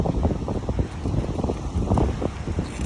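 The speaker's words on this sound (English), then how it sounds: "Very windy." Strong wind buffets the microphone on a beach at Indiana Dunes State Park, a loud, gusty rumble with faint surf beneath it.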